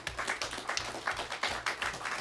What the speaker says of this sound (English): Let's give our sister Cheryl Phoenix a round of applause.